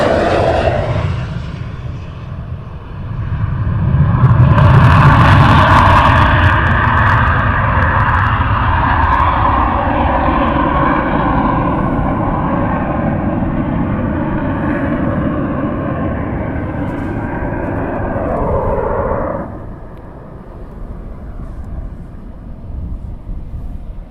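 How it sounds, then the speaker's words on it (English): An aircraft roars loudly overhead during a touch-and-go at RAF Valley, its engine swelling, holding a sustained drone as it passes, then shifting pitch and fading away. "They're ready to do another go around. Touch and go."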